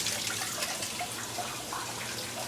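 Water runs steadily through the cold valve of a washer being tested while an RV is unwinterized for the season, a continuous close hiss and trickle lasting the whole moment.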